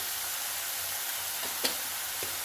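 Prawn masala sautés with pepper powder in a pan, giving a steady close sizzle with a couple of faint stirring scrapes and one small sharp tick.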